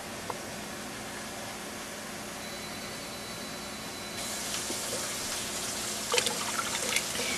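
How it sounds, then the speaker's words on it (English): Water is poured into a pot of soup on the stove, first as a steady hiss and then, partway through, as a brighter, louder splashing trickle, heard close and on its own. "I'm just going to go ahead and add a little bit more water to the soup."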